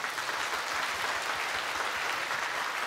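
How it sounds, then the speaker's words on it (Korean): A church congregation claps in welcome during a Sunday worship service, a dense, even stream of applause that carries steadily at moderate volume with no voices over it. "함께 박수로 환영하겠습니다."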